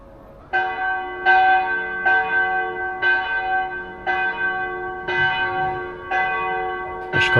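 Church bells in a Bosnian town ringing right after the Muslim call to prayer, seven clear evenly spaced strikes about a second apart, each ringing and decaying before the next, loud and alone.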